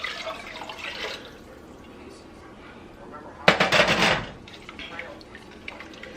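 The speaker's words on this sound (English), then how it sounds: "We're going to dump in our beef broth" Beef broth poured into a soup pot of hamburger vegetable soup, a short splashing gush of liquid rising sharply then fading over about a second, surrounded by quieter kitchen sounds and dripping.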